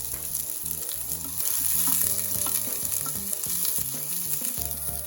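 Spring onions fry briefly in a little drop of hot oil in a very small frying pan, giving a steady, close sizzle and crackle that carries through the whole stretch with no talking.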